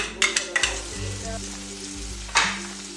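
Onion frying in oil in a pan for a Coastal Karnataka crab sukka: a steady, loud sizzle with a few clanks and scrapes of stirring near the start, no voices.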